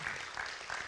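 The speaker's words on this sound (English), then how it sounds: "We have a round of applause for Ralph." A conference audience gives a round of applause, a dense, steady wash of clapping filling the whole moment at moderate level with no break.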